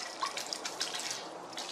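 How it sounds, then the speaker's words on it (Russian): Chilled water poured into a homemade sausage meat mixture, a faint trickle with small splashy drips over a couple of seconds. "И добавляю воду."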